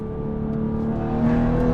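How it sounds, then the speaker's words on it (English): A BMW engine hums steadily and rises slightly in pitch as the automatic transmission downshifts while the downshift paddle is held, a smooth close engine tone with no talking. "I am going to press and hold my downshift to see what happens"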